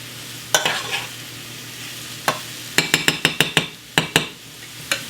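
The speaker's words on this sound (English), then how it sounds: "Mix the onions in." Onions stirred into melted butter in a pan for broccoli macaroni and cheese, with a series of sharp utensil clinks against the pan over a soft, steady sizzle.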